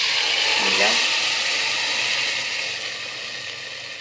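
Onion and garlic frying along with chicken in a pan, a continuous loud hiss that eases slightly toward the end, with a brief voice in the background.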